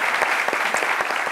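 A studio audience on a French midday television show applauds a guest with brisk, lively clapping, individual sharp claps popping out of a close, steady patter for a brief moment.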